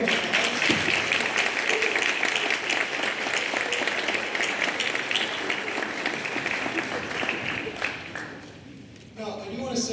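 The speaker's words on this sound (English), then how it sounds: "Give them a round of applause." An audience at a senior awards night applauds loudly for county honor orchestra students, a sustained wash of clapping that fades out near the end as a voice begins to speak.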